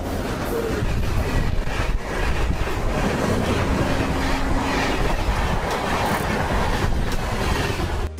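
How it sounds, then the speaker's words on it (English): An electric train runs close by, a loud, steady rumble of wheels and carriages rolling on the rails without pause. "Electric train."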